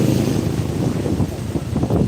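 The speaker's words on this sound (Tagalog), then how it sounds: "Hangin lang, hangin." Steady typhoon wind in Morong, Rizal rumbles against the microphone in a low, continuous roar, with faint gusts swelling toward the end.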